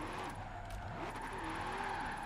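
Camaro ZL1 drift car in Forza Horizon 4, engine holding a steady high drone with wavering pitch as it slides at shallow angle, continuous and fairly loud throughout.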